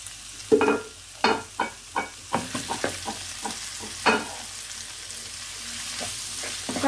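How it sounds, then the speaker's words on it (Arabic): Chicken breast frying in a pan while being stirred, with a run of close, distinct scraping stir strokes over a steady sizzle and no talking. "حتى غادي نبقى نقلب فيهم بحال هكا حتى يتشحر ليا هذاك الدجاج ديالي مزيان"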